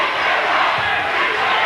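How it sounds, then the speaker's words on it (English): Fans at a basketball game cheer and shout from the far side of the arena, a dense, sustained crowd roar that stays loud and even throughout. "George Jr. crowd getting into it on the far side"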